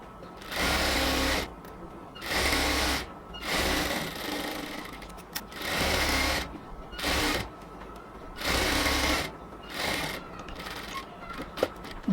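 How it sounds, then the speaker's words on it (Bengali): A sewing machine stitches the side seam of a luxury cotton kameez, starting from the bottom. It runs in about seven steady bursts with short pauses between them, close and clear. "এই পাশটা সেলাই করার সময় আমরা হচ্ছে একদম নিচ থেকে সেলাই করব"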